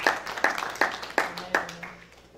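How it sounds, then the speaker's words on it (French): A church congregation claps together in a steady rhythm of five or six sharp, resonant claps, close and loud, fading out at the end. "Let us clap for the Lord."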